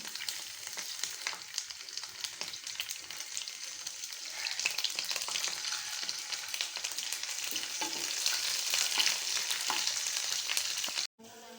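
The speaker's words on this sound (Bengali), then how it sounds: "তারপরে রসুন কুচিগুলো দিয়ে দেব।" Chopped garlic and ginger sizzling in hot oil in a pan, a steady, close frying crackle that builds slightly louder over the stretch and cuts off abruptly near the end, with no talk.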